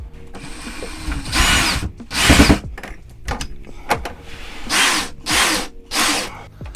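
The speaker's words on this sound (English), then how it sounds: "I'm going to do is just drill out the wood right there" A power drill whines in repeated short bursts drilling out wood inside an RV, revving up and down close by, with brief pauses and mechanical clicks between runs.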